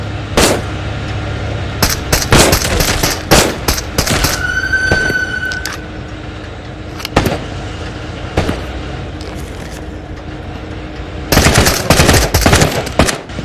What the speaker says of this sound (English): a guy with an assault rifle just fucking rips me to pieces instantly